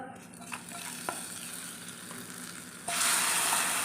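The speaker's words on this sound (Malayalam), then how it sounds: "എല്ലാം കൂടെ ഒന്ന് ഇളക്കി വറുത്ത്" Okra stew (vendakka mappas) fries in a pan while being stirred, giving a steady close sizzle with a few scraping knocks that swells sharply louder near the end, with no talking.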